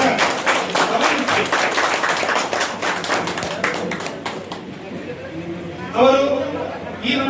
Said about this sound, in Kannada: ಎಲ್ಲರೂ ಕೂಡ ಜೋರಾಗಿ ಚಪ್ಪಾಳೆ ತಟ್ಟುವ ಮುಖಾಂತರ